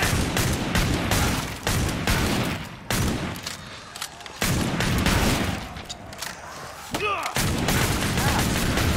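Rapid gunfire from a Gunslinger in the video game Killing Floor 2, dense volleys of loud shots and booms repeating almost continuously, with brief lulls between bursts.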